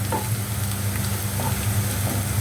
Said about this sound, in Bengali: আমার পেঁয়াজটা ভাজা ভাজা হয়ে যাচ্ছে